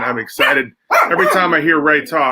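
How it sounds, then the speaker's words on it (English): Excited dogs bark indoors in short bursts, mixed in with someone speaking close to the microphone. "sorry about my dogs, they're excited too."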